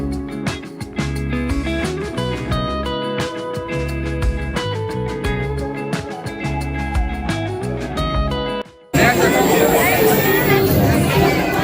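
Loud crowd chatter fills a busy day at Ramoji Film City in Hyderabad, with many overlapping voices murmuring close by after several seconds of rhythmic music.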